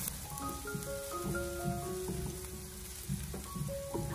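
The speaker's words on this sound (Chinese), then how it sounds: "然后再把切好的葱蒜还有小米辣放进锅中，开小火给它慢慢的翻炒一下" Chopped scallion, garlic and small red chilies sizzle softly in a little oil in a wok over low heat, a quiet steady crackle with light stirring scrapes, while musical tones play over it.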